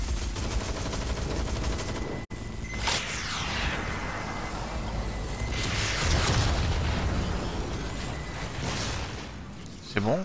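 Gunfire and action noise in Watch Dogs: Legion, a dense, continuous mix of shots, bursts and booms at moderate level across the whole stretch, with a sharp dropout partway through and a louder pop at the end.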